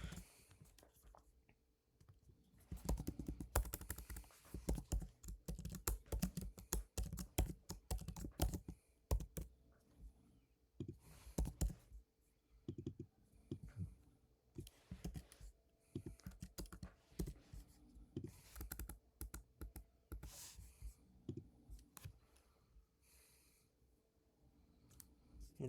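Quiet keyboard typing as C++ code is entered on a computer, with bursts of rapid key clicks separated by short pauses, close and fairly soft.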